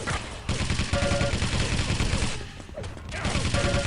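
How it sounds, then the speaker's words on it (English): Railgun shots and other weapon fire ring out during a competitive team match in Quake, with dense overlapping bursts, whines and impacts. The combat is loud and fairly continuous, with brief dips between volleys. "In the end, by Crush IQ, hitting his rail shots."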